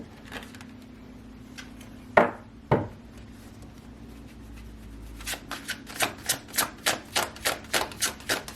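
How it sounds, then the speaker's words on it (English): Tarot cards being handled, with a couple of soft knocks followed by a quick, evenly spaced run of crisp card flicks and snaps, close and clear against a quiet room. "Let's go ahead and pull some tarot cards."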